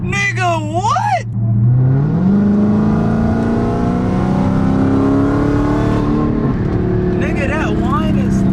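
A Dodge Hellcat Redeye with an aftermarket loud intake revs up hard, its supercharger whine rising steadily and holding loud and close for several seconds, with people talking briefly before and after.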